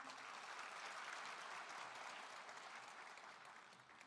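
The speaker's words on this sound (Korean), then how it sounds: "군수님께 다시 한번 큰 박수 부탁드립니다" Large audience applauding the county governor at a public hearing in Haenam on merging Gwangju and Jeollanam-do, a dense sustained roar of clapping that stays even, then eases slightly toward the end, heard from a distance.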